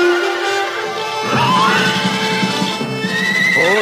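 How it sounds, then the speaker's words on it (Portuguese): A fire horse in a dubbed animated film lets out a loud, drawn-out whinny, rising and wavering over several seconds, up close with faint hoof clatter and no speech. "Olha, é o cavalo de fogo."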